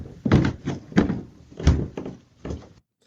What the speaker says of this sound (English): he walked in, the door closed behind him. You heard that big bang